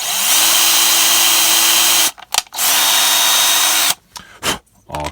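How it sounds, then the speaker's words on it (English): Power drill fitted with a 3 mm bit clearing loose debris from a screw hole in a Tamiya Vanquish/Egress C3 RC car part; a steady loud whir in two long bursts with brief pauses and short blips between. "you can then put your 3 millimeter bit in and just clear out the top one"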